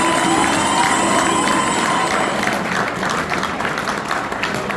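Audience applause in a seminar hall, a dense steady wash of clapping with some crowd noise and a voice over it, easing slightly toward the end.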